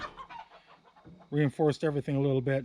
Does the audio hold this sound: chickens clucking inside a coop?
yes